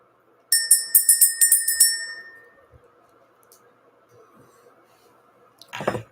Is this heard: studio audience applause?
no